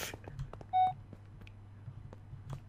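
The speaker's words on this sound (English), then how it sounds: "Beep. Beep. Beep. Beep." Beeping in a Minecraft Alien Isolation horror map: a short, bright electronic tone stands out over quiet game ambience, with a few faint clicks and blips around it.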